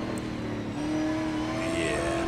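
Race car engine in the GRID Autosport video game, a steady loud drone with a rising pitch as it accelerates, running continuously without pause.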